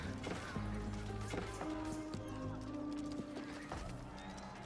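Horses in the real-time strategy game Age of Empires clatter and neigh amid battle, with several rapid hoof clip-clops, whinnies and scattered impact thuds layered into a busy, moderately loud game mix.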